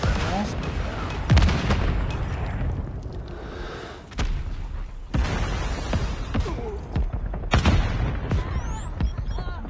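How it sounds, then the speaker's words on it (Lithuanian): Predator missile strikes in a multiplayer shooter match, a series of heavy booming explosions and crackling blasts, loud and close, with several sharp impacts and sweeping debris, game voice lines briefly mixed in. "Hostile Predator missile inbound."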